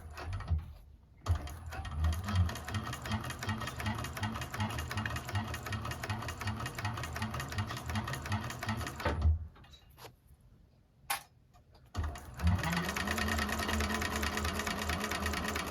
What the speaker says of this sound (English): Don't forget to back stitch and hold your threads.